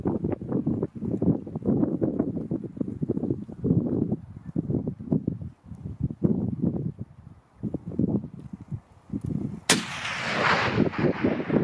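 A .338 hunting rifle fired at red deer in the Wairarapa: a single loud, sharp report with a ringing tail arrives near the end, after a long stretch of rough wind and handling rumble.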